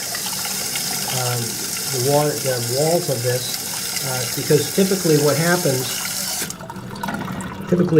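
A running toilet tank's water-conservation part drains water out when the lever is lifted, giving a steady trickling, gurgling flow heard close up beneath someone talking.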